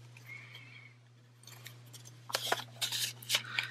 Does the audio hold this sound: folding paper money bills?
yes